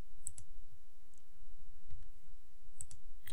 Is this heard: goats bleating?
no